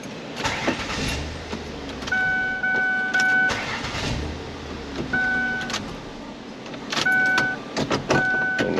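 A car engine cranks repeatedly without catching, a suspected bad neutral safety switch blamed, with several bursts of starter whir separated by pauses and steady background noise.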